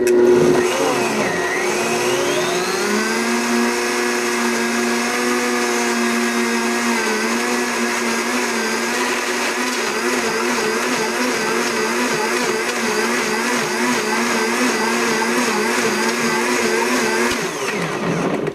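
A Blendtec blender runs continuously at high speed, loud and close, chopping down greens for a shake base, its motor pitch wavering steadily throughout with no talking.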